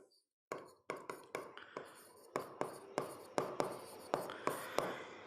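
A pen writes on paper during an exam-preparation lesson, with repeated short scratchy strokes coming in quick bursts, close and clear, and no talking over them.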